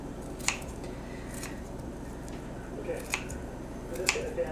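Several sharp, crisp snips of scissors cutting beef fat, spaced irregularly over a low hum, close and clear.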